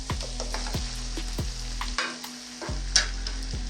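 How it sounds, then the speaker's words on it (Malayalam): Cooked, drained macaroni tipped into a pan and stirred, producing a steady close sizzle of frying with repeated scraping stirs at a regular rhythm and a few louder clatters, no voices. "മാക്രോണി ഇട്ട് കൊടുക്കാം. ഇതിലേക്ക് ഇട്ട് കൊടുക്കുന്നുണ്ട്."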